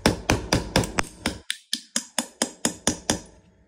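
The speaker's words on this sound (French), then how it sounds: "Une pince qui sert de marteau." Pliers used as a hammer tap the pin of an Opinel knife: about fourteen sharp metallic taps in a quick, steady rhythm, close and clear with short decays.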